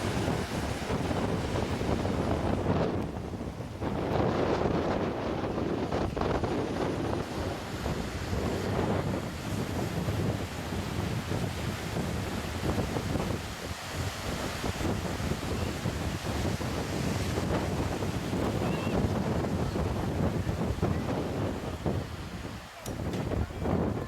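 Steady surf and strong wind roar continuously at the beach at Agnes Water, Queensland, with heavy wind buffeting on the microphone throughout and no talking.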